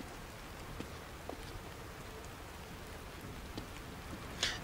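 Rain in the video game Psycho Break (The Evil Within), a soft, even patter of falling rain with scattered brief drips and one sharper splash near the end, faint and without voices.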